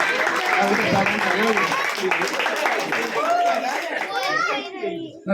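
An audience at a costume competition held by a youth club in Nadiad claps enthusiastically, a dense burst of applause mixed with children's voices and chatter that fades near the end.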